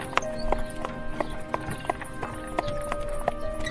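Horse hooves pull a chariot toward a forest in an animated story, a steady, fairly close clip-clop at a brisk regular trot, ringing over a sustained tonal background.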